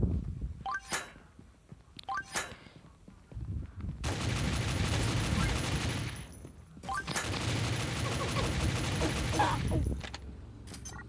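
Gunfire in Pixel Gun 3D on a workshop map: a few short sharp shots at the start give way to two long dense bursts of rapid automatic fire, with a voice heard briefly between the early shots.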